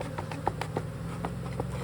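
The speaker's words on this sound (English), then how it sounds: "look at them buzzing" Honey bees buzzing around an open hive during an inspection, a faint steady hum with scattered soft taps and clicks from the frames.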